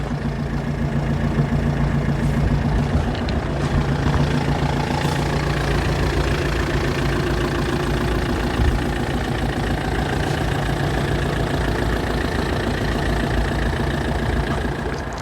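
The 1.9 diesel engine of a 2010 Opel Zafira B with a manual gearbox idles at a car market, a steady, loud, close diesel rumble with a faint knock that holds evenly for fifteen seconds.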